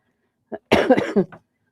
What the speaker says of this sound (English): I'm so sorry about all this coughing.